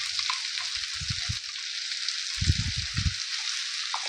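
Coconut, poppy seed and chili paste hits a hot pan of ivy gourd, bringing a steady close sizzle with a few soft stirring bumps underneath and no talk.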